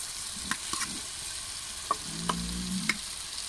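Jackfruit and tomato sizzling in hot frying oil, a steady close crackle with occasional sharp pops and spatters and a few stirring scrapes.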